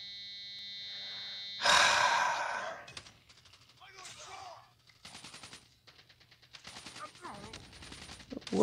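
Bursts of automatic gunfire from the mobile shooter game Call of Duty Mobile, with a loud volley near the start followed by shorter rapid rattles, mixed with breathy gasps and scattered game effects.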